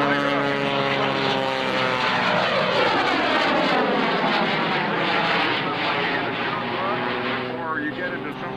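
An aerobatic propeller airplane flying a half Cuban 8 at the 2003 Dayton airshow, its engine droning loud and steady with pitch sweeping down and up as it passes, under a continuous announcer's voice on a loudspeaker.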